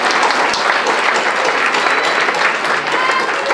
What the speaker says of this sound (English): let's put our hands together and give a big round of applause to all of the very kind donors of these amazing auction items